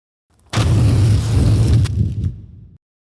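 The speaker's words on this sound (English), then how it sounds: "what you heard was my take on the flame sweep using only a sheet of paper" A whooshing, roaring burst like a flame sweep, made by rustling paper, swells suddenly, holds about two seconds, then cuts off.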